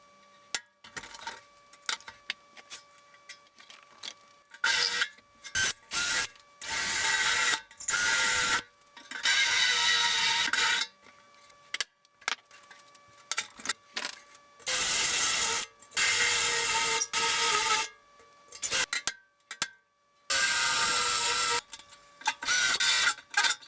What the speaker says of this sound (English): we'll get to drilling those out so we can take this apart